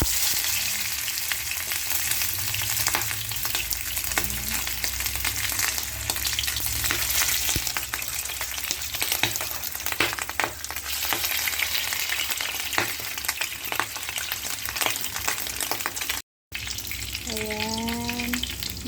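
Lechon kawali pork belly fries in a pan of oil, a loud continuous crackling sizzle with popping splatters throughout, a short break near the end, then a brief voice over the frying.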